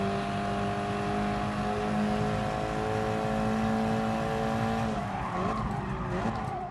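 A race car in a racing video game brakes hard, its steady engine drone giving way to a short burst of tire skid and squeal near the end, loud and close throughout.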